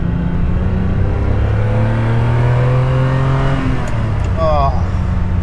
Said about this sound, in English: that V12 in this car is extremely creamy